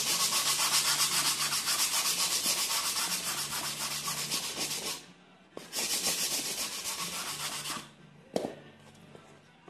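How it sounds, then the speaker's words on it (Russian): A sanding block rubs a filled corner of a polyurethane baseboard with fast, close, scratchy back-and-forth strokes, broken by two short pauses and a final brief scrape. "все это дошлифовываем."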